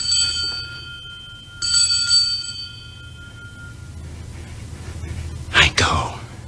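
A bell rings twice with clear, sustained metallic tones, the second strike about a second and a half after the first, both fading over a low hum, followed later by a brief breathy noise.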